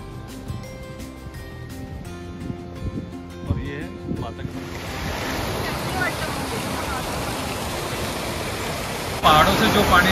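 Mountain water rushing downhill toward a village water turbine in the Himalayan hamlet of Chitkul, a steady loud roaring wash that takes over after a stretch of music, with a voice talking over it.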